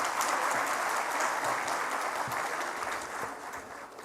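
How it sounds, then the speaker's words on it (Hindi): Sustained applause from a sizable crowd welcoming guests at a fisheries workshop, steady and dense clapping throughout, tapering slightly toward the end. "एक बार हमारे सभी मंचासीन अतिथियों का जोरदार तालियों के साथ स्वागत करें"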